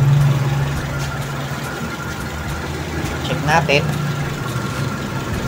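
A Mitsubishi Lancer 4G13 engine with a 2E carburetor idles low at around 630 RPM. The steady, rough rumble sits under someone talking, with faint, ticking irregularities in the idle.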